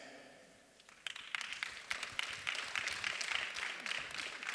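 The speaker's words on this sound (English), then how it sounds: "A round of applause for them as they come on stage" Applause at the Social Innovators Programme and Awards 2022 as fellows walk on stage, starting as a few claps and swelling into steady, moderately loud clapping from an audience in a hall.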